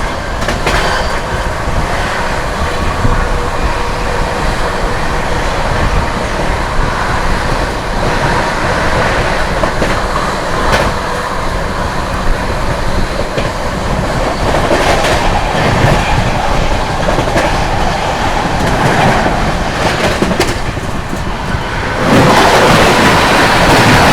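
Inside the Sealdah–New Delhi Rajdhani Express, a loud, continuous rumble of the moving train fills the whole stretch, with faint rhythmic clacking of wheels over rail joints and a slight swell in intensity near the end.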